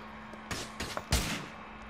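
Gunfire in the video game Grand Theft Auto IV during a mission with snipers: three distinct bursts of shots, the last one heaviest and booming, each separated by short gaps over a steady low background hum.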